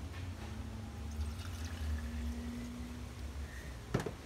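Water is poured into a betta fish container during a water change, a soft continuous pouring and trickling over low background hum, ending in a brief splash or clunk.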